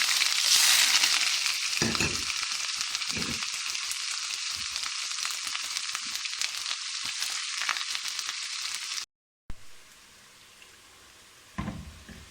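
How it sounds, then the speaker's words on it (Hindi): Onions sizzle loudly in hot oil with crackling spatter, then a brief silence before quieter frying resumes with a few stirring clunks. "अब इसके अंदर हम ये प्याज डाल लेते हैं। प्याज को हल्का फ्राई कर लेंगे।"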